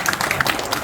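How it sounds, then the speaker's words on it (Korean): Brief burst of audience applause at a humanities lecture, many hands clapping close together in a dense patter for under a second. "여기서 박수 한번 주세요."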